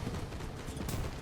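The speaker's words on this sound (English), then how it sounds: "Oh, there's a lot of gunfire coming in here." Massed musket volleys in the historical battle game Mount & Blade: With Fire and Sword, a dense rumbling crackle of many shots blending together, steady and moderately loud.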